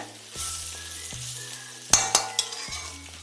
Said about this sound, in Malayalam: ഇതെല്ലാം കൂടെ ഒന്ന് മിക്സ് ചെയ്യുന്നു.